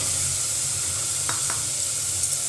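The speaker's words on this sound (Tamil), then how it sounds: "இதையும் வந்து லேசாக போட்டு வதக்கிக்கிடணும்" Round slices of carrot sauté in a pan for a healthy soup, giving a constant close hiss of frying oil with a couple of soft stirring scrapes and no voices.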